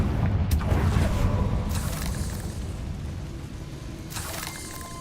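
A Confringo fire spell explosion in the Hogwarts Legacy video game, a deep rumbling blast that swells and slowly decays into a roaring, crackling wash, with sharper bursts flaring at intervals.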